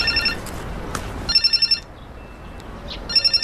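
A telephone rings in short trilling bursts, three clear rings separated by quieter pauses, fairly loud and close in an indoor scene, with no talk over it.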